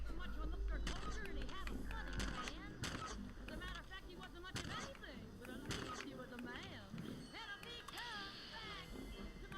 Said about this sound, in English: I'm getting a little sick of the turrets going